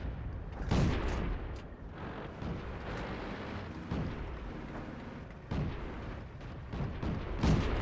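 Repeated heavy booms of tank cannon fire in a World War II tank battle game, with several loud blasts spaced seconds apart over constant rumbling battlefield noise and no talk.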